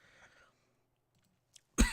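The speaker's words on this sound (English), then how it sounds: "Sorry, I'm just coughing here." A short, close cough bursts out after faint murmuring and near silence, preceded by a tiny click.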